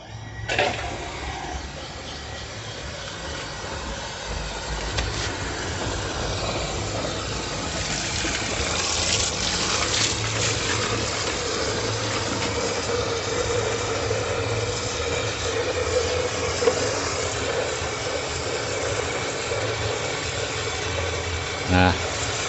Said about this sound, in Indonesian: mesin pompanya